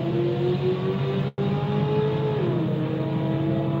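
A pickup truck accelerating hard down a dragstrip, its engine note loud and sustained, pitch climbing steadily as it pulls away, with one brief cutout partway through.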